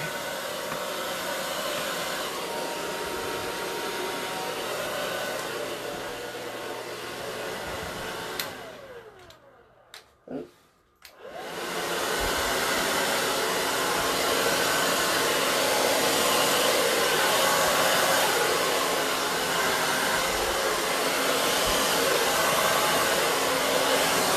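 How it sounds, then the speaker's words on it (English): A hair dryer blows steadily at close range, cutting out briefly in the middle before roaring back on at full, constant strength. "So you really want movement, use your blow dryer."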